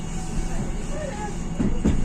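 Steady low rumble of a Citadis Dualis tram-train rolling on rails on line T1 in Nantes, with faint clunks near the end and a continuous hiss throughout.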